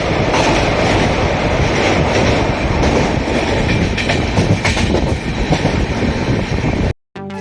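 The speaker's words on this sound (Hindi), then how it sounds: "इंतजार खत्म, रेलगाड़ी आ चुके हैं।" A passenger train pulls into a station bound for Kolkata, a loud, steady rumble of wheels with rhythmic clickety-clack over the rail joints, running continuously before a brief dropout near the end.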